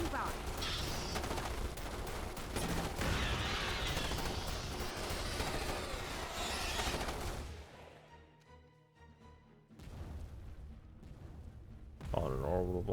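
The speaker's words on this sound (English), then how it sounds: "On an orbital bombardment, I thought it was gonna deploy. Maybe it's not. There it is." An orbital bombardment in Starship Troopers: Terran Command arrives as dense, continuous volleys of gunfire and heavy blasts. The barrage drops to a low, thin stretch midway, then loud impacts return. Someone talks over it throughout.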